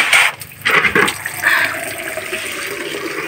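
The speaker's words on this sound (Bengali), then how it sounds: "গাছগুলোতে জল দিয়ে দিই একটু" Potted plants being watered, a loud close gush of pouring water in a few surges that settles into a steadier, softer flow, with no talk.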